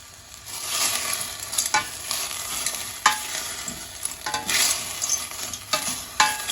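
Black currants are stirred in a simmering pot in repeated scraping strokes, with a steady sizzling, bubbling bed underneath and no talking.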